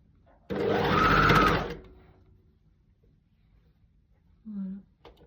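A sewing machine runs in one steady burst of about a second, stitching the armhole of a dog sweatshirt, then stops; a short faint clatter follows.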